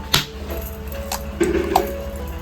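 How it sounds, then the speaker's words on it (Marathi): A few sharp, hard knocks of a coconut being struck and cracked open, spaced irregularly, close by. "कढी बनवण्यासाठी ना आपल्याला नारळ सुद्धा लागणार आहे काही आता फोडून घेते"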